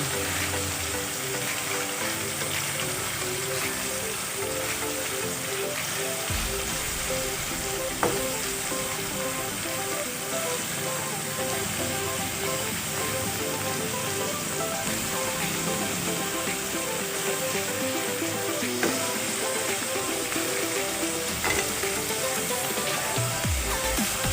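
Sirloin beef strips for pepper steak frying in a hot pan, a steady dense sizzle and crackle throughout with occasional stirring clinks, close and continuous.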